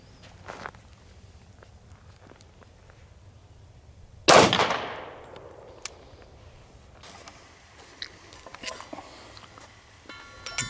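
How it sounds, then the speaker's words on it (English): A single sharp shot from an H&K VP40 .40 S&W pistol into a Kevlar helmet cracks out loud and close, decaying quickly amid quiet shuffling and handling noises. "Up next, the H&K VP40 40 Smith & Wesson."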